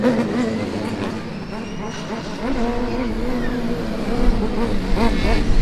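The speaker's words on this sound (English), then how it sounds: "We also have the car Karlsruhe H16 completing the first half of the endurance, pulling into the driver change." Formula Student race car on an endurance lap at a competition track, its engine note rising and falling as it passes at a distance beneath crowd and commentary noise, with people talking throughout.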